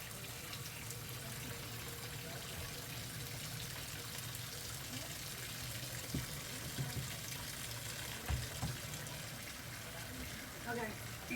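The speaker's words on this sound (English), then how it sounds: "let's put all this in the sink, put some water in it" Tap water runs steadily into jars in a kitchen sink, a constant broad rushing wash with small clinks and knocks near the end.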